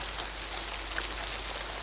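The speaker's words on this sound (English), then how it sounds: "It rained harder than ever." Steady rain falling in a fantasy story scene, a continuous close hiss of drops on a surface with no breaks and no voices, loud and even throughout.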